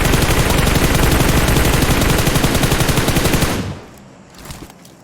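Sustained rapid automatic gunfire in the mobile battle royale game PUBG Mobile, loud and continuous for about three and a half seconds before cutting off abruptly, followed by faint distant shots.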